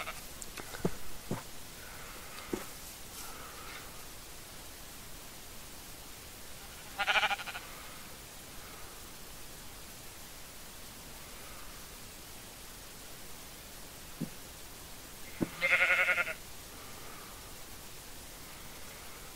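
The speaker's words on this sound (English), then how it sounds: "Crazy sheep." Two short sheep bleats from Minecraft, one near 7 seconds and another near 16 seconds, each brief and moderately loud over a steady hiss of background noise.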